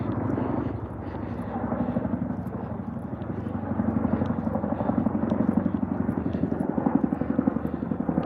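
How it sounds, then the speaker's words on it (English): An airplane passes overhead near an airport, making a low, steady droning rumble that swells slightly and holds throughout, with a faint voice underneath. "Guys, you hear the plane, right? I live close to an airport, so airplanes are always flying back and forth."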